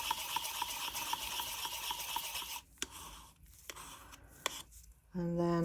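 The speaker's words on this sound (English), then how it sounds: "give that pigment a good mix in" Pigment is stirred into polyurethane resin with a repetitive scraping, rubbing stir, close and fairly quiet, pausing briefly, followed by a few sharp taps on the container.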